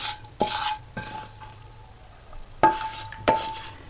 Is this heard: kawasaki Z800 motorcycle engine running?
no